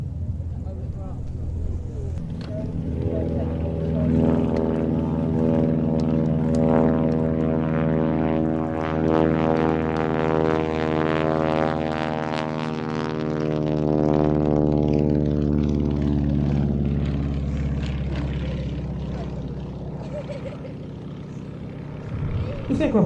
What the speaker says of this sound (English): This aircraft was originally developed by Stinson Aircraft of Wayne in Michigan as an affordable and rugged cabin monoplane